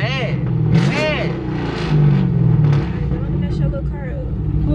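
A car engine revs loudly and roars in rising and falling swells while people talk over it.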